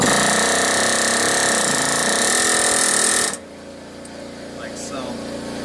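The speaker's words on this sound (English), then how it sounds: "What I use is an air chisel and try to start peeling them up" Air chisel hammering at rusted-out ball joint rivets on a Chevy Silverado K2500, a loud rapid rattling buzz that cuts off abruptly after about three seconds, followed by a quieter stretch with faint shop noise.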